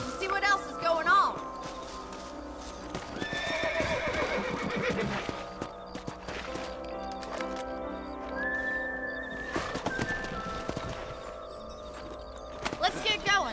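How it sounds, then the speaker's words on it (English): In a Red Dead Redemption video game scene, horses neigh and whinny while hooves clip-clop along, mixed with in-game talk and ambient game sounds throughout. "Let's get back on the horses and see what else is going on."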